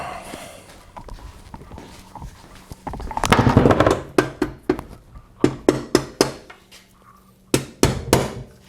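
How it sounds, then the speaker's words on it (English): A rubber mallet knocks a Briggs & Stratton Quantum lawn mower engine part loose from its dowel pins: a run of solid, close, evenly spaced thuds in small groups over faint background noise. "Let's get a rubber mallet and give it a couple little love taps."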